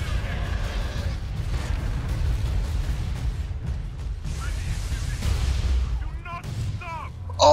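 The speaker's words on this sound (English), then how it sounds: "Grenade. Boom." A grenade goes off in the Warhammer 40K: Space Marine action game, a dull low boom rolling under steady battle noise and gunfire, with a short voice near the end.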